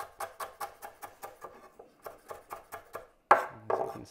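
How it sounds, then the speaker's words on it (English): A knife chopping red onion finely on a board for a raw salad, a quick even rhythm of about fifteen crisp close taps, a short pause, then a louder clatter. "This one I will chop much finer."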